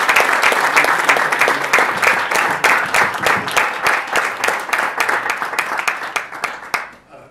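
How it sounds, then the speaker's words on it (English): At a CREDAI MCHI Youth Wing business event, an audience gives a warm round of applause welcoming a guest to the stage: loud, crisp, close clapping that thins and fades away at the end. "Please join me in giving a warm round of applause"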